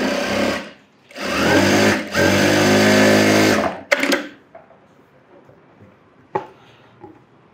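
A sewing machine runs in three loud sustained bursts while stitching an umbrella frock, then stops, leaving a few faint clicks and handling sounds.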